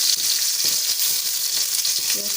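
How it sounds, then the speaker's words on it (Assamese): Sliced onions frying in a pan for a mustard gravy, giving a steady, close hiss of sizzling oil with occasional stirring scrapes. "পিঁয়াজখিনি অলপ সময়ৰ কাৰণে মিঠাবলৈকে ভাজি ল'ম"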